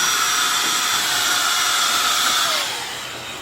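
A Milwaukee M18 cordless battery air blower runs on high with a loud, steady rushing whoosh and a high whine, close by, easing down slightly near the end.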